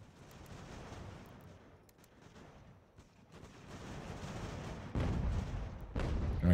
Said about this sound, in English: I think our artillery is maybe not well served in counter battery fire